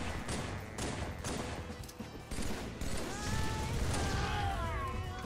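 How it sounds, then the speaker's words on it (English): Gunfire from a pistol and other weapons in an online Halo MCC match, a dense run of sharp shots and crashing effects layered over game noise and some talk throughout. "Couple shots in there."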